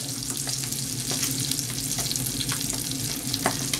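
A sea bass fillet sizzles skin-side down in a frying pan, a steady close crackle of hot fat with faint pops, continuous and fairly loud with no talking.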